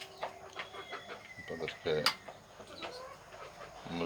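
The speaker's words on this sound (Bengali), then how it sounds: "মুরগিগুলো খাবার খাচ্ছে।" Chickens and roosters in a small backyard pen cluck softly while eating, scattered short calls over light rustling, with a person talking through much of it.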